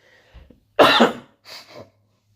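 A single harsh cough from a man with a cold rings out close by, preceded by a faint throat sound and followed by a softer, breathy second cough, with quiet between.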